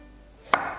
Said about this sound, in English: I'm gonna chop it into very small size